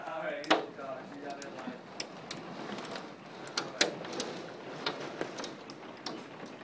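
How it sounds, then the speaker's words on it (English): Hail in a Minnesota storm patters with scattered sharp ticks and taps against a hard surface, irregular and fairly faint, under a low background hiss and quiet voices. "We got hail."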